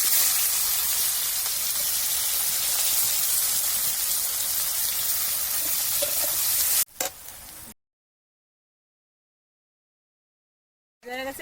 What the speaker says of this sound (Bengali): এবার আলু ভাজা হয়ে গেছে, এবার পেঁয়াজটা দিয়ে দেবো।